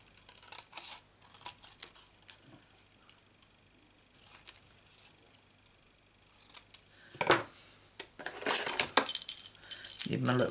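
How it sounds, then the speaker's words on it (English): Small scissors snip through card in several bursts of crisp cutting, close and fairly quiet, with a busier stretch of repeated snips near the end and no speech. "Need my little scissors for this."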